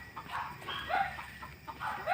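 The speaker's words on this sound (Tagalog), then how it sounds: "Nawa mga manok dito." Chickens on a farm cluck softly in a few short, uneven bursts, fairly faint against a quiet outdoor background.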